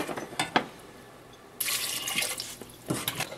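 Water is poured into a cooking pot of pineapples for a pineapple curry, a short, splashy rush lasting about a second between light clinks and drips.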